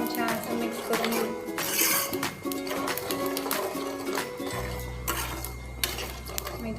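A spoon stirs fenugreek seeds and asafoetida in a pan while making a Maharashtrian raw mango curry, with metallic scrapes and clinks against the pan, light frying underneath and a low hum entering partway through.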